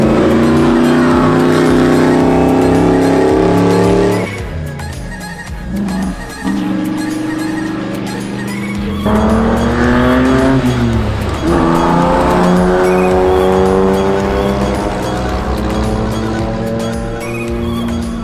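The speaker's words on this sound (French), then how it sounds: "c'est des voitures qu'on voit jamais rouler, c'est des voitures des années 20 et 30" Vintage race cars from the 1920s and 1930s roar past one after another at the Le Mans Classic, their engines loud and close, pitch rising and falling with each passing car.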